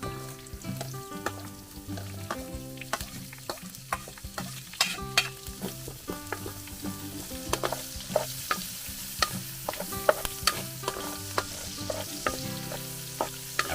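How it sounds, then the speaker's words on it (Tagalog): Onion and garlic sauté in rendered pork-leg fat in a farm-style pot for braised patatim. A continuous close sizzle runs under brisk, rhythmic stirring and scraping. No voices are present. "Gigisa tayo ng sibuyas at bawang."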